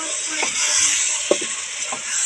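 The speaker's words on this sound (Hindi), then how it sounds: "देखो आलू मिक्स कर दते आलू मसाले फ्राई कर लेनी" Potatoes and spices sizzle steadily in a pan while a spoon stirs through them, giving a few soft scrapes over the constant close frying hiss.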